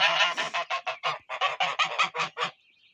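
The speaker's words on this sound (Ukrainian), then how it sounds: "гуси" Geese honk loudly in a rapid, repeated series of harsh calls, close by, in 40°C heat, then fall quiet.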